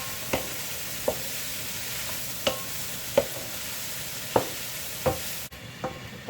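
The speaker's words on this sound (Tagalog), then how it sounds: "Lipat na natin sa medyo malaking kawali. Patuloy lang natin ang paggisa ng ating ampalaya." Bitter gourd (ampalaya) sautés in a large pan with a steady, close sizzle, while a utensil scrapes and stirs it in regular sharp clicks roughly once a second.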